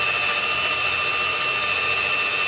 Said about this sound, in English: So now you take your drill and you go right through that little hole.